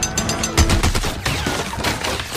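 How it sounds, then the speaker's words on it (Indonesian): A Gatling gun fires in a western cowboy film: loud, rapid bursts of shots roll on for about two seconds, dense and continuous within the movie soundtrack. "senjata pamungkas yang ternyata adalah Gatling gun, yang merupakan senjata berat yang bisa menembakkan banyak peluru dalam satu waktu"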